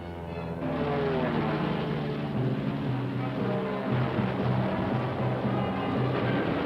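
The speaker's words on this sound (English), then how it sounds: "B-17s lift off from Midway in June 1942 to join our Navy's carrier-based aircraft" World War II B-17 bombers take off from Midway in June 1942, a steady, droning multi-engine roar that swells at the start and holds loud and constant throughout.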